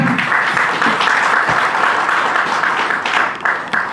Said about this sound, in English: A round of applause for our keynote speaker.